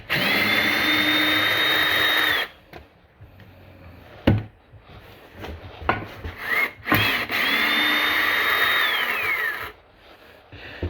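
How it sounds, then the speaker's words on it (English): A power drill whines steadily for about two seconds at a time, twice, with woodworking clatter and handling knocks between runs at a cabin where a window opening is being cut, close and loud. "I gotta bring one of these drills home"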